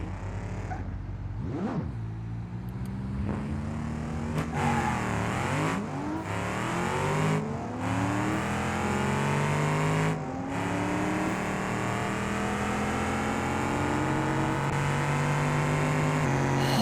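A muscle truck makes a nitrous-assisted drag pass in BeamNG.drive. Its engine roars loud and close, revving hard and climbing in pitch through several gear changes, with no talking over it.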